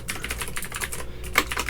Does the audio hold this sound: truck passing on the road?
no